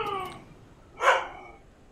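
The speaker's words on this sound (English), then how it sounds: "He's setting off the dog." A dog in the video game Resident Evil lets out a single short bark, loud and close, after a brief whine.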